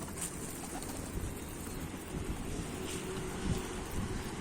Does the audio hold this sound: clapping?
no